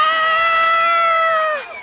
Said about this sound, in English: Oh, that was wonderful screaming.